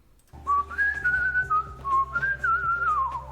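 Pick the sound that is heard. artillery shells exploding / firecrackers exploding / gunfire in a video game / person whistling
person whistling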